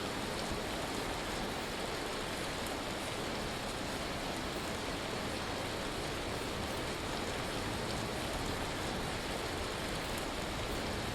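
Heavy hail falling in the survival game Vintage Story makes a loud, unbroken wash of noise, like a downpour drumming on surfaces, holding steady from start to finish.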